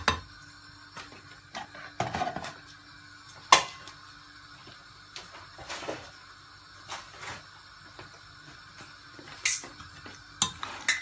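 A spoon or utensil clinks and scrapes against a bowl while ingredients are stirred together with cornstarch for a fried chicken noodle dish, with scattered light taps and knocks at an irregular rhythm, close and fairly quiet.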